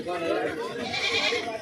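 Goats bleat at a busy livestock market for goats and sheep, with loud, wavering cries overlapping one another. Voices and crowd noise fill the background.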